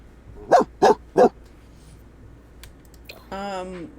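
An Australian Shepherd puppy barking in The Sims, three sharp evenly spaced yips close up, followed by a whining, drawn-out vocal cry near the end over quiet game ambience.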